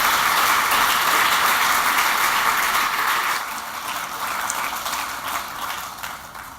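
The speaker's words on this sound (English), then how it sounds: "A round of applause." An audience at a public event on devolution and metro mayors in the Liverpool City Region gives a sustained round of applause, steady and loud, easing slightly in intensity partway through.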